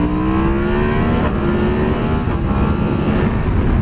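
A Yamaha sport motorcycle engine runs loud and close, holding a strong, steady droning tone as its pitch climbs gradually under the throttle.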